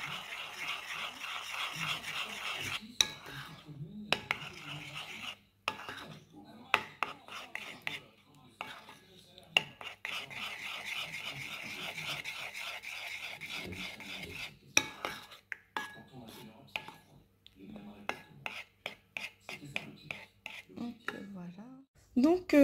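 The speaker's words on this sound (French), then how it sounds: "je rajoute à mes jaunes d'œufs mon sucre et je mélange le tout" Egg yolks and sugar are whisked by hand in a bowl for a chocolate butterfly cake, making rapid rhythmic metallic clinks and scrapes in bursts separated by short pauses.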